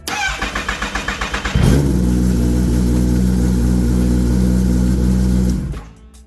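A starter cranks in a rapid rhythmic chatter, then a Kawasaki Ninja ZX10R sport motorcycle engine catches and roars into a loud, steady idle before cutting off.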